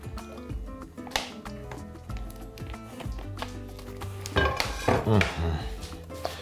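Metal pans and utensils clatter and scrape on a stovetop, with irregular knocks and clinks growing busier and louder toward the end.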